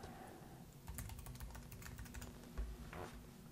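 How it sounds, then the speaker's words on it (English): Fingers typing on a computer keyboard, a quick run of close, light clicking keystrokes with no talking. "as soon as you start typing in this top right hand corner"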